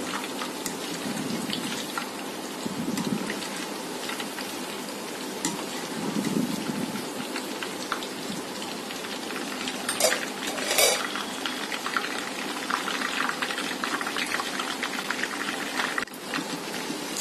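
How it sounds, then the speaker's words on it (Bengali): Chicken pieces fry in hot oil in a pan and get turned over, giving a steady crackling sizzle throughout with light clinks of a utensil against the pan, close and unbroken by talk. "চিকেনগুলি আমি তেলের মধ্যে ছেড়ে দিয়েছি।"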